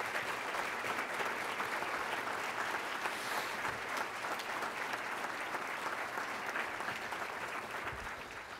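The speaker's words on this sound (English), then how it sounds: "Please give one more round of applause to this select group of Missouri's finest teachers" Sustained applause rises from an audience honoring a select group of Missouri teachers at a Teacher of the Year event, a steady, moderately distant roar of many clapping hands that thins slightly at the close.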